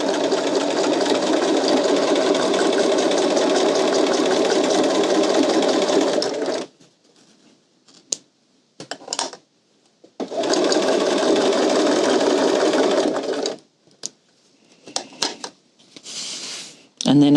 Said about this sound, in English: I'll actually stitch across one end